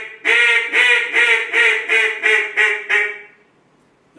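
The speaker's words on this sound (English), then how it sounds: "This is just a regular loud call." A hunter blowing a loud duck call gives seven evenly spaced, raspy quacks in a descending cadence, close and loud with no talking, then stops into near silence.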